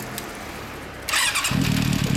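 A 1997 Honda CB400 Super Four with a Yoshimura exhaust fires up after a quiet moment, a sudden burst giving way to a loud, steady, throaty idle rumble up close.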